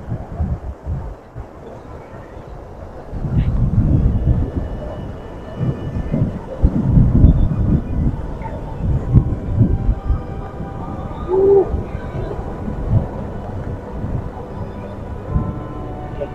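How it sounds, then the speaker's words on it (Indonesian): Strong wind at a seaside floating temple in Bali, with only small waves: a loud, rumbling roar that surges in gusts and buffets the microphone for the whole stretch, with no talk. "anginnya sangat kencang sekali"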